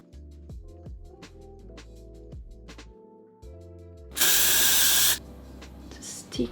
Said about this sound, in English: I think I need hairspray.